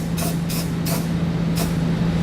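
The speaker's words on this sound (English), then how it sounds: "you can spray this with some clear coat." Clear coat sprayed from a can onto the cut edges of a metal vehicle frame comes in four short hissing bursts, evenly spaced, over a constant low mechanical hum.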